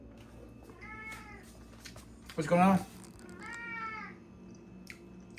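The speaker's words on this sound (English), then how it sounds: "Okay, sorry, that's my cat" Chunky, a house cat, lets out several meows indoors, a short call, then a louder burst and a longer wavering one, close by with a person speaking briefly between them.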